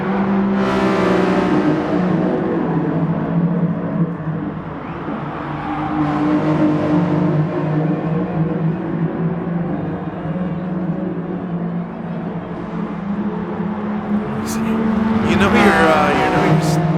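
Race cars lap Laguna Seca in Gran Turismo Sport, a steady engine drone that swells and shifts pitch as cars accelerate and pass, with someone commentating over it throughout.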